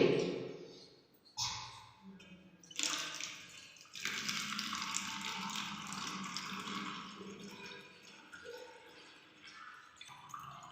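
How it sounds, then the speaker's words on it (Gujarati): Water is poured into a plastic bottle fitted with a tube and a rubber balloon for a school science experiment: a few splashes, then a steady, close rushing pour that gradually softens. "અંદર બોટલમાં પાણી રેડીશું."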